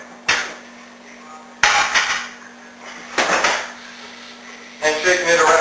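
Broken-up sausage shaken around in a hot frying pan, giving several bursts of rattling, scraping clatter with a steady background hum between them.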